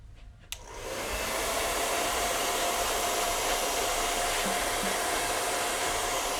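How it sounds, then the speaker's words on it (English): After a faint click, a hair dryer switches on and roars steadily and loudly while drying hair after a haircut, a constant airy whoosh that continues without a break. "And I got my blow dryer."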